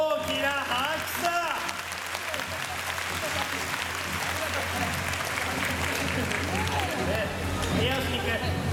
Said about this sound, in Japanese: みんなを盛り上げてくれたお父さんにもう一度大きな拍手だ